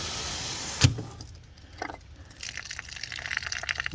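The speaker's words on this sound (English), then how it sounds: "And there it goes draining out, which is what you want when you go into winter layup." Water draining out of an outdoor Aquor house hydrant for winter layup, a close gushing stream that cuts off abruptly with a thump, followed by fainter trickling and dripping.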